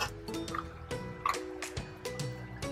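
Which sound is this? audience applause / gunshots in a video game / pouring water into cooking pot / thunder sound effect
pouring water into cooking pot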